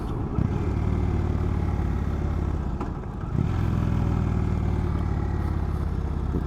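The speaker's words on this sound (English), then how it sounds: "This is just all engine braking so far" Indian Chief Vintage motorcycle engine braking while rolling to a halt, a loud, steady low-pitched rumble of the V-twin with a brief dip midway before the throttle-off burble resumes.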